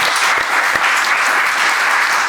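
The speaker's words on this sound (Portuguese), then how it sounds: "Salva de palmas, gente." Dense, steady applause from an audience fills the whole stretch, loud and continuous with no pauses or voices rising above it.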